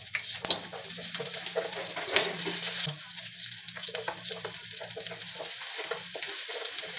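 Onion and garlic sauté in a pan for ginisang kalabasa, giving a steady, close hiss of sizzling oil with occasional utensil scrapes and clinks, and no talking.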